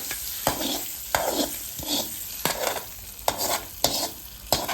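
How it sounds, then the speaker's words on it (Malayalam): Sesame seeds crackle and sizzle in hot ghee for mango payasam, a steady frying hiss broken by repeated sharp bursts of popping and stirring roughly every half second, close and fairly loud. "എള്ള് ഈ നെയ്യിലോട്ടൊന്ന് പൊട്ടിച്ചെടുക്കണം."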